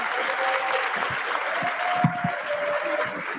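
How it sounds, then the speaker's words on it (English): A mainstage conference audience gives its panelists a big hand: steady, full-room applause that fills the space throughout, with a faint voice now and then beneath it. "please give a big hand applause for our panelists."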